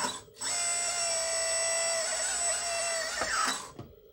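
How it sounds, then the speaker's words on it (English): Hydraulic dump bed motor on a Huina Kabolite K3362 RC dump truck, a close, high-pitched electric whine that starts abruptly, holds steady for about three seconds, shifts pitch slightly near the end, then cuts off. "And then this is your hydraulic dump bed."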